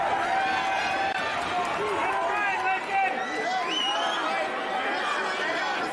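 Crowd at a fight event chanting and shouting a fighter's name, a sustained roar of voices with rhythmic calls, while a commentator talks over it.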